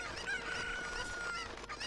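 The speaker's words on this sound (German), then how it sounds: "ich muss das Huhn wegwerfen" A Cucco chicken in Zelda: Ocarina of Time clucks and squawks in a short, clear burst over steady game background sound, with a sustained squawking note through the middle.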